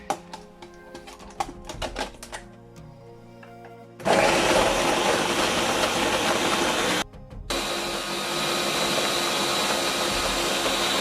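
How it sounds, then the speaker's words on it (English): An electric blender starts up and roars steadily while blending onions with scotch bonnets, loud and close, cutting out briefly before whirring on again, preceded by a few seconds of quieter kitchen clatter. "I'm just going to blend this now."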